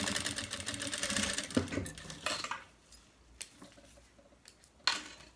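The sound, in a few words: sewing machine stitching a zipper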